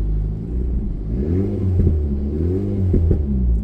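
Alpine A110S sports car in sport mode with its exhaust valves partly open, engine and exhaust revving in a steady deep rumble with rising and falling pitch, close and fairly loud, no talking.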